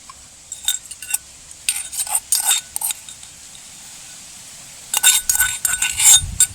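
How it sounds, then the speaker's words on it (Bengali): Ground powdered ingredients for a homemade mosquito repellent poured into a bowl, heard as bursts of close clinks and taps of utensil against the bowl, with a quiet pause between them. "এবারে এ সবগুলো একটা পাত্রের মধ্যে ঢেলে দেব।"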